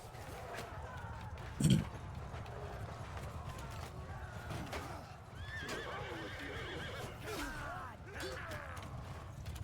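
Horses whinny and neigh amid galloping hooves in a Mount and Blade 2 Bannerlord battle, one sharp nearby whinny standing out over a busy, distant clatter of cavalry and combat.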